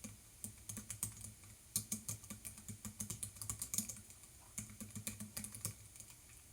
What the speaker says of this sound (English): I can type into it.